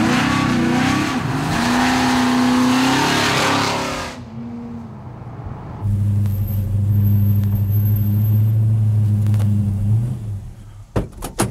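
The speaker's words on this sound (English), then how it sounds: "Cruising the back roads of Pennsylvania in a 426 Hemi" A 1964 Plymouth Belvedere with a 426 Hemi V8 cruises Pennsylvania back roads with a loud, deep engine roar. The roar eases into a quieter lull, then returns as a steady, throbbing drone before ending in a few clicks.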